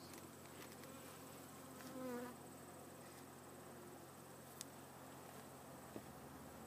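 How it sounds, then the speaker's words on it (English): Soft, continuous buzzing of bees nearby at hives on a honey farm, with a brief louder drone passing close and a couple of small clicks. "Alright, bees get out of the way."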